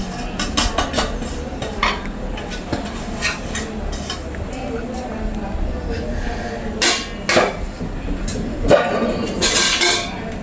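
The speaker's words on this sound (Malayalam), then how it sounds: "നമുക്കിതൊന്ന് ഇളക്കി കൊടുക്കാം" A spoon scraping and clinking in a pan as ivy gourd pieces are stirred into a spice paste for pickle, with irregular metallic knocks and scrapes over steady background noise.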